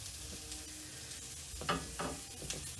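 Ćevapi sizzle in a hot dry pan with no oil, a steady close crackle and hiss with a few louder spits and bursts as the meat is moved.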